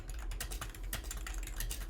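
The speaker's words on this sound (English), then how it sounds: "We're gonna let you hear the clickety clackety sounds of the keyboard." Keys on a computer keyboard clatter in a rapid, uneven stream of close clicks with no voices.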